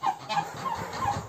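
Turkeys gobbling nearby, several quick rattling gobbles repeating in short bursts over about a second, fairly faint and heard alone without talk.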